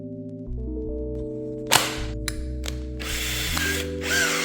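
A power drill drills pilot holes in plywood, its motor whining in steady pitched bursts that start and stop, with sharp bites as the bit cuts into the wood.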